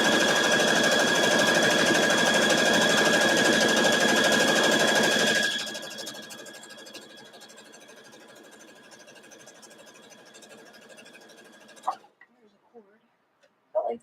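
A sewing machine with a quarter-inch foot stitches fabric strips together for a quilt block, running loud and steady with a whirring hum for about five seconds, then slowing and fading to a faint drone before quiet clicks and handling noises.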